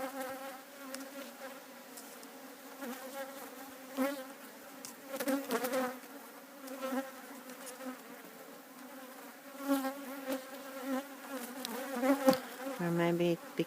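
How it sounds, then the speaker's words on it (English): Honeybees drone loudly and continuously around an opened hive during an inspection, a dense close buzz with swelling surges. "the bees are so loud."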